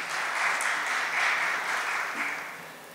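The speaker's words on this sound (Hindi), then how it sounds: "आप सबकी जोरदार तालियों के साथ।" An audience at an arts award ceremony breaks into applause, a dense, steady wash of clapping that holds evenly and then tapers slightly at the end.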